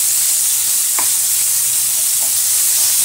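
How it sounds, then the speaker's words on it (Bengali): Fried spice masala for a raw banana curry sizzles loudly and steadily in a pan, with a couple of faint stirring scrapes and no talk. "আর আমি 1 মিনিট নাড়াচাড়া করব।"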